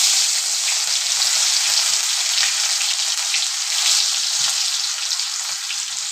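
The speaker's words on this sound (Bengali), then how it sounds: "তেলের পরিমাণটা একটু বেশি দিতে হবে। দেখতে থাকো। এটা আমার গরম হয়ে গিয়েছে। এবার আমি দিয়ে দিব রসুন কুচি" Chopped garlic dropped into plenty of hot oil fries with a steady, loud hiss and crackle that runs without a break, close up and alone.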